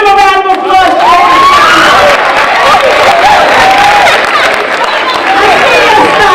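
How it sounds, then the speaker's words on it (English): A crowd at a youth empowerment forum applauds and cheers loudly, with whoops and excited voices rising over dense clapping and chatter that run on throughout. "give them a round of applause"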